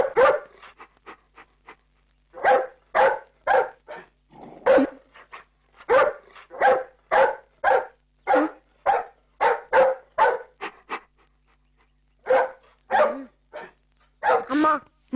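A dog barks repeatedly in close, loud bursts, sometimes single and sometimes in quick runs, with brief pauses of silence between volleys and no other sound around it.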